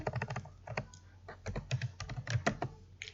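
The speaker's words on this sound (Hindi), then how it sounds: "कंट्रोल एस प्रेस कर देते हैं" Keys pressed on a computer keyboard during a web editing session, including a Control+S save: a quick run of close, crisp clicks and taps at an uneven rhythm, with no speech.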